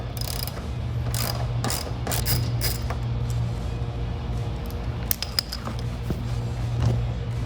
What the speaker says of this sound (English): We're going to take out that 2nd bolt right here, right behind the tow hook.